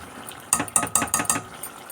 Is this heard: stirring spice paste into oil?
yes